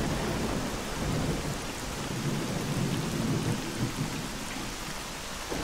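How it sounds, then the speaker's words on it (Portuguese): In the video game STALKER, heavy rain pours steadily with low rolling thunder rumbling underneath, an unbroken, enveloping storm with no talking. "Esse sonzinho de chuva."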